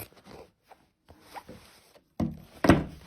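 Scissors snip through a pair of jeans in a few short bursts, close and fairly quiet, with a louder cluster of cuts toward the end and brief pauses between strokes.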